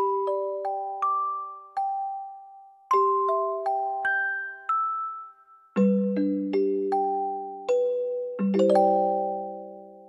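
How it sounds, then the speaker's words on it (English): A celesta voice on a Yamaha keyboard plays a short melody of bell-like notes, each struck clearly and decaying quickly, with later low chords adding fuller tones, played alone and fairly close. "like the celeste is really nice."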